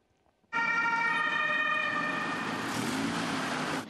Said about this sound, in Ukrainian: Біля центральної міської лікарні не змовкають сирени швидких.